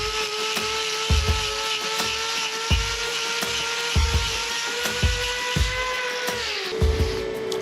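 Power trimming tool grinding loose horn off a horse's hoof wall, a steady high whine with repeated short thumps as the tool bites, close and continuous with no talk.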